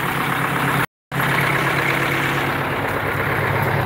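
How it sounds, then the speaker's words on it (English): A diesel engine idles after a fuel filter change with a steady low rumble and a constant mid-range drone. It cuts out for a brief moment near the start and then resumes evenly, loud and close, with no voices. "But we're gonna leave it idle for a little bit."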